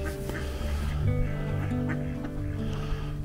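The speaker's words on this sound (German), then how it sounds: "Und wir haben Enten, ganz viele Enten haben wir." Ducks gather at a pond, giving scattered quacks over steady outdoor background noise with low hum, close enough to pick out against the ambience.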